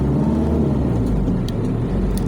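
Car traffic on a road in Makati City, Philippines rumbles steadily nearby, a low engine drone with passing vehicle noise and no talking.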